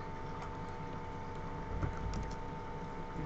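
A computer keyboard typing a sudo command in a Linux terminal, a few soft scattered key clicks under a steady electrical hum and background noise.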